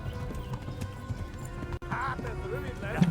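Horse hooves clip-clopping at a gallop in the video game Kingdom Come: Deliverance, a steady rhythmic beat under continuous talk, with a brief whinny near the end.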